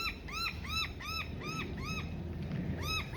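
Common myna birds calling repeatedly in a steady series of harsh, rising-falling whistled notes, moderately close, over a constant high insect-like hiss outdoors in Australian bushland.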